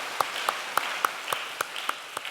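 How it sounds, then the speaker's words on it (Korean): A small group claps at a church family service, about eight sharp, evenly spaced claps ringing out clearly over a quiet room. "박수 주세요"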